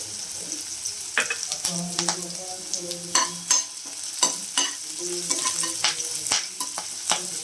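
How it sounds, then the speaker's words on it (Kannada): Sliced onions fry in a pan for an aloo curry, a steady crackling sizzle running throughout with repeated scraping stirs of a spatula knocking against the pan, close and fairly loud, with no talking. "ಹಾಗೆ ಈರುಳ್ಳಿ ಹಾಕಿದ್ರೆ ನೀಟಾಗಿ ಫ್ರೈ ಆಗಬೇಕು 1 ನಿಮಿಷ"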